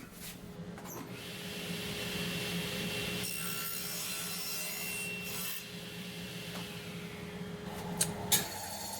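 A hand saw cuts through wood for an X-shaped cross box joint, a steady rasping stroke held close for several seconds, ending in a couple of sharp knocks.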